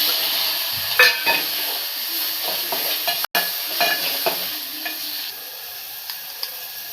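Prawns sizzle and fry in a hot pan while being stirred, a steady close hiss broken by clinks and scrapes of the spoon against the pan, with no talk.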